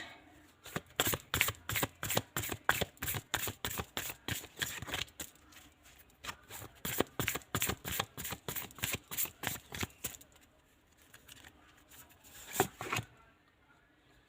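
Tarot cards are shuffled by hand in rapid, rhythmic riffling bursts, close and crisp, pausing briefly midway before resuming and trailing off into a few final flicks, with no talking.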